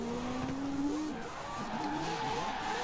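Tires squeal in a sustained skid as a Mazda RX-7 Spirit R drift build is brake-drifted in Forza Horizon 4, with a steady engine drone beneath and no talk.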